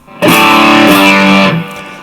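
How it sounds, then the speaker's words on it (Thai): A single loud chord on an electric guitar through a Vestax overdrive pedal, crunchy and saturated, ringing out for over a second before being cut off. "เสียงแตกละเอียดสวยงาม"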